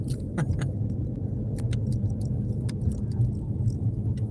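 A car drives along with a steady low road rumble and engine drone, while light rattles and clinks sound now and then inside the cabin.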